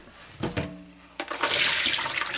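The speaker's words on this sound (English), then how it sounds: "And then what you do is you strain them" Soaking water strained off almonds, a few brief knocks and clinks followed by a loud, steady gush of draining water close by.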